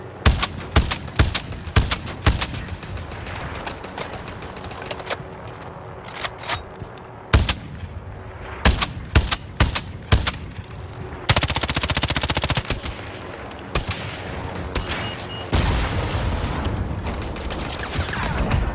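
Gunfire in a video game, with rapid machine-gun bursts and single cracking shots, loud and close, in repeated clusters with short gaps between them and a sustained stretch of continuous firing.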